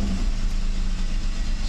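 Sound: Mercedes 600SL engine starting up

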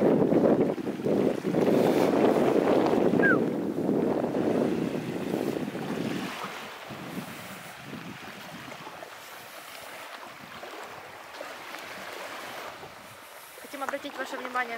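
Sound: waves on the evening beach at Koblevo

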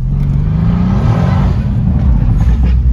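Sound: Mercedes C63s AMG V8 biturbo engine revving

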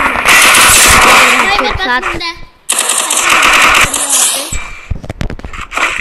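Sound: gunfire in the video game Free Fire

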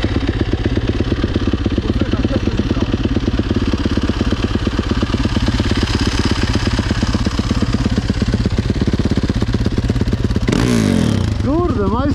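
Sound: Honda motorcycle engine started and running

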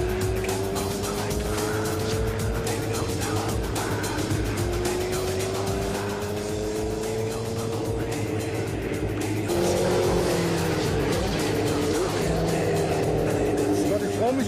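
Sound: car accelerating as driver presses the gas pedal

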